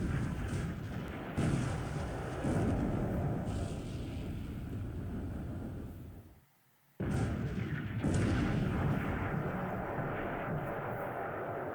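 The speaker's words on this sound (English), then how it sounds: "So second 14-inch shell hit and also penetration" Heavy naval gunfire and shell impacts from a 14-inch gun in a Pacific War naval combat game, a loud continuous rumbling barrage with bursts that briefly drops out to silence mid-way before resuming.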